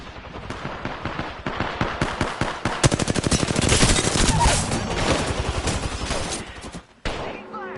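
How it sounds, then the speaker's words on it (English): Dense automatic gunfire in a video game, rapid bursts firing almost continuously for about seven seconds, loud and close, with a voice faintly underneath before a sudden cutoff. "Taking fire. Getting shot at."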